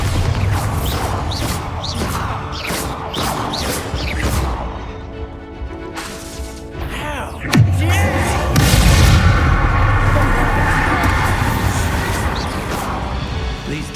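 A Bombarda blasting spell explodes in Hogwarts Legacy with a heavy boom partway through, preceded by rapid crackling magic impacts and followed by a rumbling, lingering roar; a voice speaks briefly.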